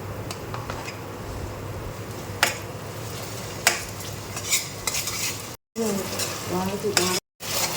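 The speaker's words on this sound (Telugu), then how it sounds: "ఈ విధంగా అల్లం వెల్లుల్లి పేస్ట్ని అడుగంటకుండా తిప్పుకుంటూ ఉండాలి." Ginger garlic paste frying in a pan for chicken curry is stirred with a utensil, giving a steady sizzle broken by sharp scraping clacks against the pan, close up with two brief dropouts.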